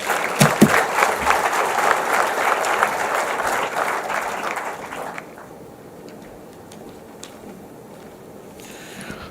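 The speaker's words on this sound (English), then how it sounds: "Another round of applause for our CS as he takes his seat." Loud audience applause fills a launch event for Kenya's National Financial Inclusion Strategy and MTP IV plan, steady for about five seconds before dropping off to a faint room murmur with a few scattered claps.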